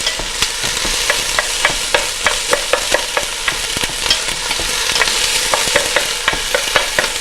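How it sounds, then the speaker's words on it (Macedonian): Chopped onion fries loudly in a pan while a utensil stirs it, giving a dense sizzle punctuated by regular sharp scraping clicks roughly every half second, close up with no talking. "Ќе го испржиме убаво кромидот, да се зацрвени, да добие убава боја."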